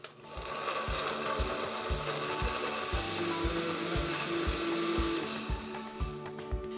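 A blender mixes a keto, vegan strawberry matcha smoothie with close, steady motor whirring and a regular chugging pulse, running for several seconds before winding down slightly at the end.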